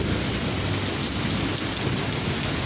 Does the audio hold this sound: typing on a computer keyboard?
no